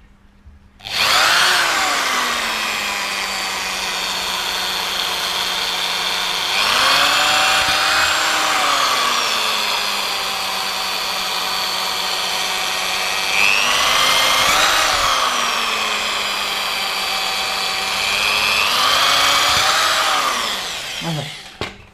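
A handheld power drill whines through three long driving bursts, pitch sagging under load, as screws go into a DIY X8 drone frame, loud and close with short pauses between runs.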